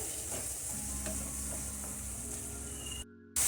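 Tomatoes sizzle and crackle in a hot tempering with green chillies for a long bean (lobia) curry, a steady close frying hiss with soft stirring scrapes and no voices.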